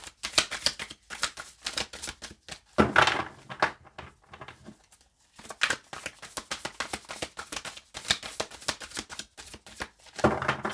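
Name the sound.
shuffling a deck of cards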